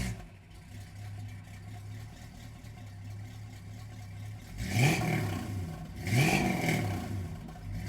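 A restored 1957 Chevrolet 3100 pickup truck engine runs at a low idle and then revs twice as the truck drives off, each rev rising and falling in pitch, heard alone without talk.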